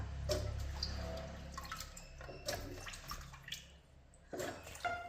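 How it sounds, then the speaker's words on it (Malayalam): Water splashes and trickles into a cooking pot of tapioca in a quiet kitchen, coming in a few short pours with soft drips between, close and fairly faint. "കുറച്ച് വെള്ളം ഒഴിച്ചിട്ടുണ്ട് ലേശം വെള്ളം ഒഴിക്കുന്നുള്ളൂ"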